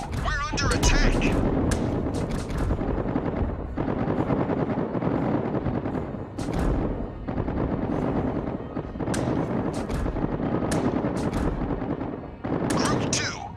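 Naval gunfire in World of Warships with the Ryujo, repeated heavy booming salvos and rumbling blasts running continuously, while a radio-style voice speaks over the battle.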